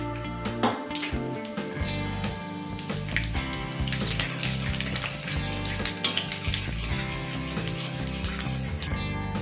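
A whole dried red chilli and a teaspoon of panch phoron sizzling steadily in hot oil, a continuous close crackle with frequent small pops, heard alone without voices.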